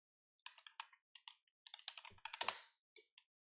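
Typing on a computer keyboard, a quiet burst of light clicking keystrokes in irregular clusters, close and alone with no voices.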